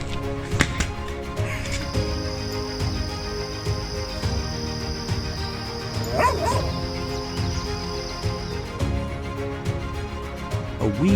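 A puppy yelps, whimpers and cries repeatedly while an alligator holds it in its jaws, with sharp high distressed yips and splashing noise throughout.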